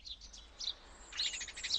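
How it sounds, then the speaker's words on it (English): A house sparrow gives a series of short, bright chirps, first in a few scattered calls and then a busier burst of quick notes, fairly close and clear over a quiet background. "The house sparrow."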